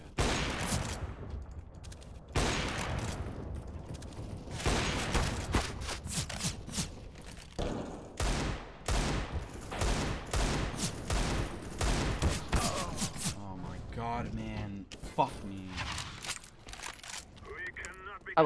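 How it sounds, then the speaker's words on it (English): Rapid bursts of gunfire ring out in a video game, sharp cracks in quick clusters spread across the whole stretch, with a voice speaking between some of the shots. "Where am I getting shot from?"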